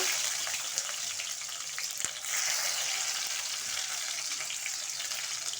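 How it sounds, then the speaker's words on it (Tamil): Chopped big onion and curry leaves frying in oil for a drumstick and brinjal side dish, giving a soft, continuous hiss with faint scraping and no talking. "ஒரு பெரிய வெங்காயம் கட் பண்ணி வச்சுருக்கேன், சேர்த்துக்கிறேன். கொஞ்சோண்டு கருவேப்பிலை"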